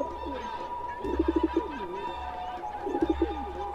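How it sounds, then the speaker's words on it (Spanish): A dove cooing in two short rhythmic bursts of soft hollow coos, close and clear over a faint steady background hum. "La siguiente ave en expresarse sería la paloma"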